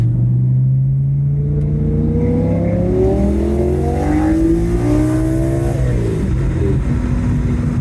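A BMW E46 M3 with a swapped S85 V10 engine revs hard and loud, pitch climbing and falling through several throttle blips, deep exhaust roar close by with no talking.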